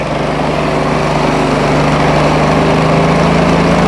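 A gas engine on a trailer-mounted sewer jetter, a HotJet 2 with a 37 HP fuel-injected engine driving a 12 GPM, 4,000 PSI pump, runs loud and steady at close range with a constant throbbing drone and no talk.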